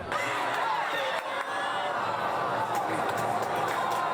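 Supporters pack a football match screening, their crowd noise a steady, dense babble of voices and scattered shouts filling the space close by without a break.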